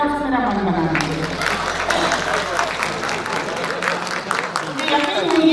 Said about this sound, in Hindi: एक बार ताली बजाकर थोड़ा सा मेरा मन बना दीजिए